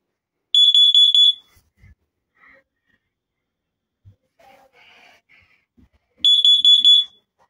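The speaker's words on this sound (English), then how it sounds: "today I'm going to be testing my carbon monoxide alarm right here" A home carbon monoxide alarm under test lets out two loud, piercing electronic beep bursts, each rapid pulsing and under a second long, separated by several seconds of near silence with faint handling noises.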